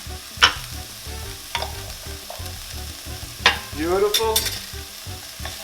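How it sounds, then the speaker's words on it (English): Onion and minced garlic sizzle and fry in a pan, a steady crackling hiss with utensil scrapes and clacks over it, close and loud, and a voice speaks briefly. "So we got the onion in the pan. Next thing, we got the minced garlic."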